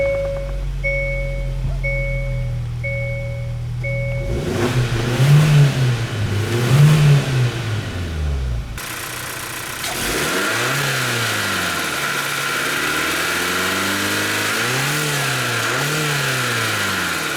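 A Hyundai Santa Cruz's 2.5-liter turbocharged four-cylinder engine idles, then revs up and down several times, close and steady, with a beeping tone heard at the start.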